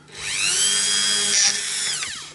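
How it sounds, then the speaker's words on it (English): A power drill bores tuner screw holes into a guitar neck finished in very light nitrocellulose lacquer, a loud whining spin that winds up, holds steady for about two seconds, then spins down near the mic. "now we're going to just put some new holes in to mark the tuner screws"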